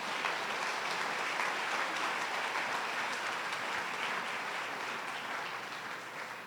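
A church congregation claps steadily in sustained applause during a Sunday service, a dense wash of hand claps that stays even and slightly distant before tapering off.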